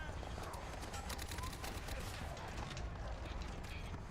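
Rapid video-game gunfire with heavy recoil rattles in dense bursts through the whole stretch, loud and continuous, while a player talks over it.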